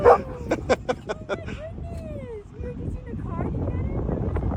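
Dogs yip and bark in a quick burst of sharp calls, then break into drawn-out whimpers and excited whines, close by, with wind rumble and a voice in the background.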